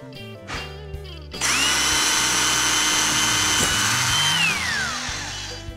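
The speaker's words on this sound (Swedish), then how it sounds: "Här gör jag också så innan jag borrar allihop." A power drill bores holes for kitchen cabinet door handles: after a brief quiet start, a loud, steady high whine runs close up for several seconds, then dips in pitch as it slows near the end.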